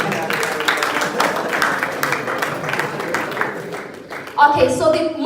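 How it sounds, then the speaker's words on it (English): Audience applause at a press conference with two musicians, a steady wash of clapping from the crowd under continuing talk, with a louder voice cutting in near the end. "can we clap for them"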